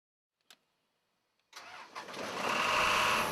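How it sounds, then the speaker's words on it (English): An air compressor that feeds a pneumatic rock drill starts up after a couple of faint clicks in silence, then its motor catches and builds into a loud, steady, rising roar nearby. "After all connections are made, start the air compressor."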